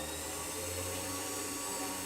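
A rotary tool spins steadily while polishing with a wood mandrel, a continuous high whine with a low hum under it, close and unbroken for about two seconds.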